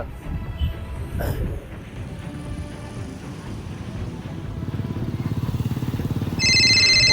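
A cheap Chinese mobile phone rings out loudly with a bright, repeating electronic ringtone that starts near the end, over a steady rumbling vehicle engine and wind noise.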